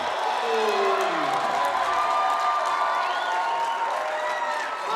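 A basketball crowd in a gym roars steadily as reserves enter late in a high school game, Lander versus Riverton, with cheers and whoops rising over dense broadband noise throughout.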